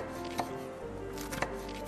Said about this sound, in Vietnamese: Còn với nấm mèo thì bây giờ mình sẽ sắt nhỏ ra, không cần phải nhỏ lắm, chỉ cần nhỏ vừa thôi.